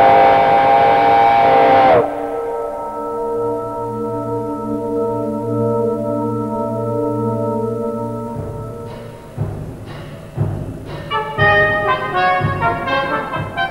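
A steam locomotive blows a long, loud whistle chord for about two seconds, then its working rumble and tonal drone carry on steadily before sharp, rhythmic bursts of exhaust and clanking take over.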